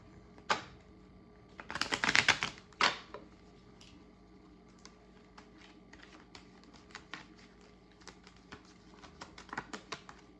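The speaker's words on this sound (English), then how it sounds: "let's draw some cards on this" Tarot cards are shuffled and drawn: a brief riffling burst near the start, then a long run of light, irregular taps and flicks as cards are handled and laid down, close and fairly quiet.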